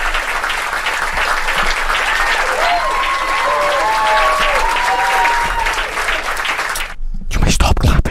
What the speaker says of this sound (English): You may stop clapping.